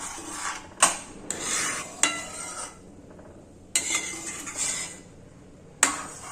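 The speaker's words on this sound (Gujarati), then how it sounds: "હવે ચમચાની મદદથી તેને આપણે હલાવી રાખવાનું છે" A spoon scrapes and clinks against a metal pot of milk and vermicelli custard pudding in repeated strokes, with sharp taps every second or two and swishing stirring between them.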